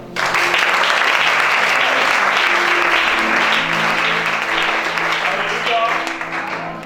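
A congregation at a deliverance worship service in Gabon claps loudly and steadily for nearly seven seconds, with voices calling out beneath the dense applause.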